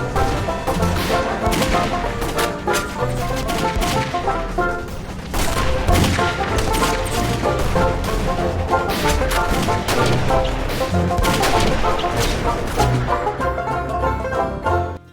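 A long, dense fusillade of police gunfire erupts in a film scene, with rapid overlapping shots in loud continuous bursts, a brief lull, then more sustained volleys.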